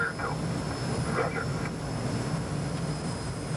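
Steady drone of a tow plane's aircraft engine pulling a glider aloft, heard from inside the glider as a constant broadband roar with a faint high whine, with brief voices over it.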